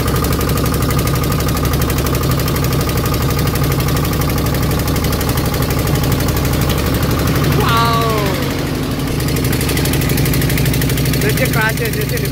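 A motor boat engine drones steadily and loudly on the Sharavathi river backwaters near Honnavar, a constant mid-pitched throb throughout with brief squeaky tones over it partway through.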